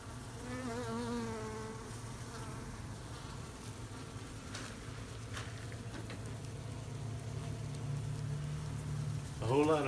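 Honeybees buzz steadily and close throughout an indoor hive removal in a hot building, a dense continuous drone with a brief louder swell at the end, with no speech.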